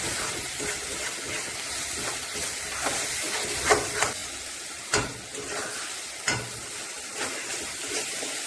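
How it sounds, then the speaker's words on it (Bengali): Spice masala of coriander, cumin and chilli powder frying in a pan for a cauliflower, mushroom and potato curry, a steady sizzling hiss broken by several sharp stirring scrapes. "এখন মশলাটা ভালো করে আমি কষিয়ে নেব"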